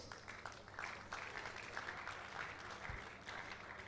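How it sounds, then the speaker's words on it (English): Faint, distant applause from an audience at an oil and gas energy summit, a soft steady patter of many hands with no one speaking. "if that applause is for me, I will say that is too much"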